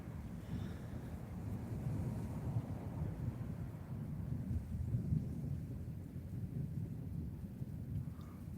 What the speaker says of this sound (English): Oh, I can hear that thunder now.